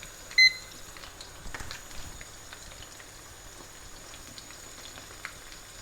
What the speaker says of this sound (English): And we'll fry these for 3 minutes and check what they're like then.